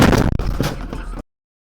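Car collision while driving for Instacart, loud sharp bangs and crunching impact noise up close, with a couple of quick pops before the sound cuts off abruptly.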